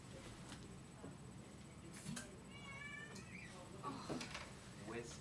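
A pet cat meows several times in short, rising calls, fairly close, over low room noise and faint background voices.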